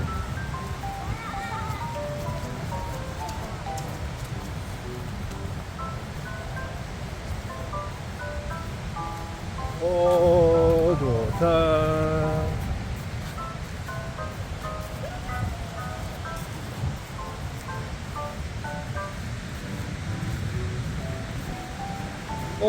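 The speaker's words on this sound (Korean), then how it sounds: "아 파도가 많이 치네" Steady broadband surf from sea waves breaking on a beach in Da Nang, Vietnam, rolling continuously and fairly loud on a breezy morning, with a brief tonal swell of other sound near the middle.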